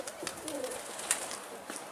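Pigeons coo softly in low, rolling calls with faint wing flutters, set against a busy outdoor background with people talking at a distance.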